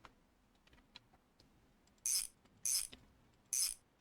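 Ratchet tightening bolts on a car drive shaft in a garage, three short, sharp bursts of rapid clicking in quick succession after a few quieter knocks and taps, close and fairly crisp.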